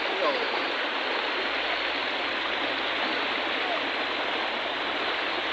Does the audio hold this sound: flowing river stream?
yes